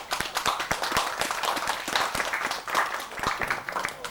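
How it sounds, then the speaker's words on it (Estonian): Applause from a crowd at an Estonian village day festival, a brisk steady patter of clapping held at moderate distance for a few seconds, fairly quiet overall. "Aplaus!"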